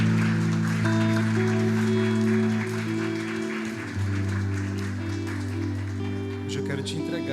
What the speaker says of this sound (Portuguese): Oh Deus, dá uma salva de palmas,